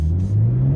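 2022 BMW M240i engine droning steadily under load, a loud, close low rumble holding a near-constant pitch for a brief moment with no voices.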